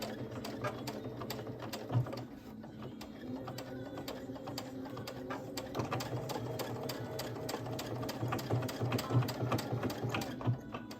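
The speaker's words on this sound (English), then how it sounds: "you want to sew that opening closed" A sewing machine runs steadily and close by as it sews the opening of a crib sheet closed, its rapid needle clatter continuing without a break.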